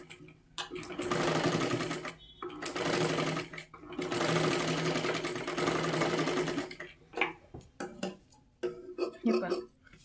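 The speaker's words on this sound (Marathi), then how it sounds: "अशा पद्धतीने हे पूर्ण आपल्याला शिलाई करून घ्यायची आहे." A sewing machine stitches a strip for a princess-cut blouse, running in long, loud, steady whirring bursts with short pauses, followed by choppier start-stop runs as someone talks between them.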